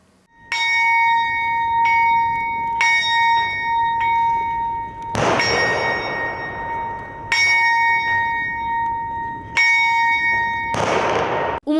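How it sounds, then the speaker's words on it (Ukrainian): A large memorial bell tolls slowly and resonantly in a memorial square in central Ivano-Frankivsk, struck about every two seconds with each ring lingering, joined by a few louder, deeper strikes. "вкотре пролунав дзвін пам'яті"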